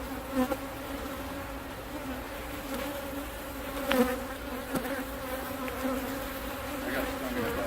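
Swarms of honeybees hum close around beekeepers working a hive, a dense steady buzz with droning tones and a few brief louder passes near the microphone.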